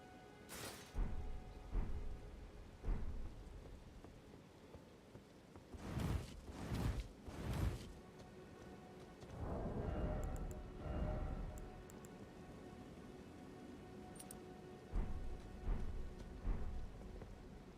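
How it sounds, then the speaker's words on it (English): Rain falling in the open world of Elden Ring, a steady soft patter with several louder gusting, rumbling bursts swelling over it, no voices. "It's a little rainy today"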